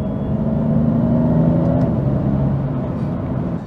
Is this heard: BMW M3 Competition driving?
yes